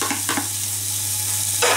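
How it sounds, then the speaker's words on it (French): Spring onions, green tops and bulbs, frying in a pan with lardons, a steady close sizzle with a couple of stirring scrapes near the start and a louder burst of hiss toward the end, under a constant low hum. "Et on va mettre donc les oignons nouveaux et les lardons à revenir."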